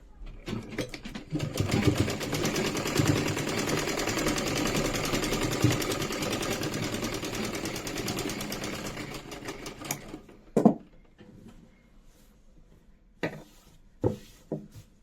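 A sewing machine runs in one steady, close whirring burst for about ten seconds while stitching the pocket plate on a pair of ladies' trousers, then stops, followed by a few short taps and handling sounds.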